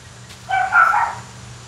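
A Dalmatian gives a single short, moderately loud bark or yelp, heard fairly close over a low background hum with no talking.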